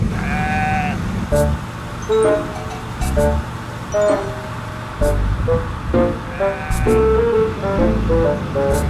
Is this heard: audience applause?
no